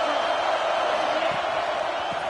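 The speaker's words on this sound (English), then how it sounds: "This crowd ready to make its presence known." Stadium crowd in a college football video game, a steady roar of cheering filling the whole moment, loud and continuous with a commentator's voice faintly mixed in.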